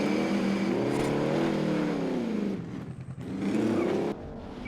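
A car driven in the video game Call of Duty Warzone gives a loud, steady engine drone with shifting revs. It fades briefly midway, then returns strongly before easing off near the end, with no talk over it.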